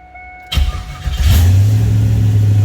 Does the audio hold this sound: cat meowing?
no